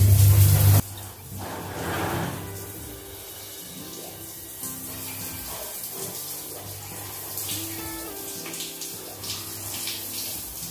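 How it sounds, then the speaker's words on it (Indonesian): Water sprays steadily onto soapy bathroom tiles in a rinse, a continuous close hiss with faint scrubbing underneath, following a short loud burst at the start. "bisa kita gosok selagi disemprot pakai air itu langsung digosok-gosok menggunakan spons yang tadi"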